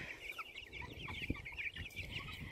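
Fifty-seven meat chickens cluck steadily in a mobile fenced coop area outdoors, a continuous chorus of overlapping mid-distance calls with one brief louder squawk midway.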